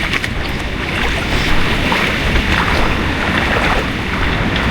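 Floodwater rushing in around and into a house during a deluge, a loud, dense, continuous roar of churning water with steady turbulent wash and no pauses, close to the listener.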